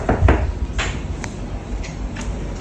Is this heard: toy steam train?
no